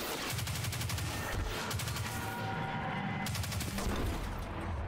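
Rapid crackling bursts from an electric energy gun in Destiny 2, firing in dense repeated volleys across the whole stretch, loud and close with brief pauses between strings of shots.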